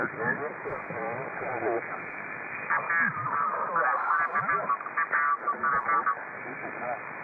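Amateur radio band interference fills the receiver with a dense, band-limited hash of warbling tones and garbled overlapping signals, steady and unbroken throughout.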